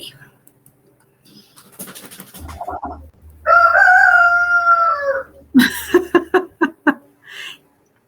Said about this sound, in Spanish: Y ese gran gallo, para que despierten todos sus compañeros.